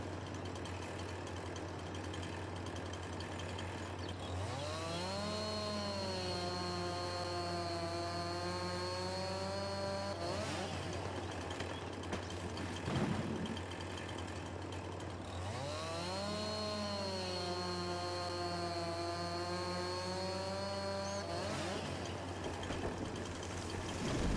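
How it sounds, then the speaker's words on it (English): Chainsaw in the Farming Simulator 22 video game cutting down trees, two long steady revving cuts with rising and falling engine pitch over a constant low engine hum and no talk. "I said I feel like Paul Bunyan, but with a chainsaw"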